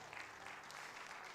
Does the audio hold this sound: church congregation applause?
yes